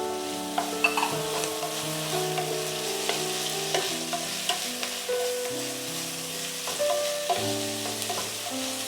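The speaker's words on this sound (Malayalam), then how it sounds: "ഇത് ഇത്രയും നന്നായിട്ട് ഒന്ന് സോട്ട് ചെയ്തെടുക്കാം" Cube-cut capsicum sautéed in a pan for chilli fish, a steady sizzle broken by repeated scrapes and stirring clatters of the spoon, close and with no voices.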